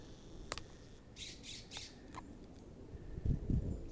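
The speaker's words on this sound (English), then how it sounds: "western scrub jays. You hear her calling off from the oaks." Western scrub jay calling from oak trees in a San Diego canyon, giving a few short harsh squawks at moderate distance over faint outdoor ambience and some low rustling.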